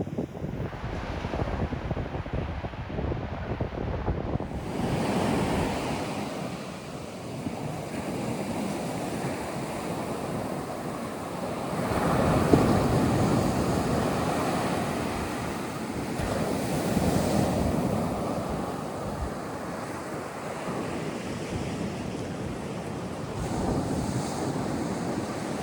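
Ocean surf rolls onto a cold North Carolina shore with steady wind buffeting the microphone, a broad continuous wash that swells and eases, with no voices.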